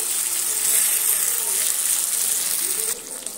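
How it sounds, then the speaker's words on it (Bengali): Braised meat is poured into a hot pan for an okra and meat dish, giving a loud, steady, broad sizzle and wet gush that drops off abruptly near the end. "কষানো মাংসগুলো এবার আমি ঢেলে দিচ্ছি"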